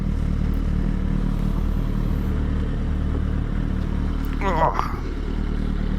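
A Suzuki GSR600 motorcycle engine runs at a steady idle, a low continuous drone throughout, with a short burst of voice-like sound near the end.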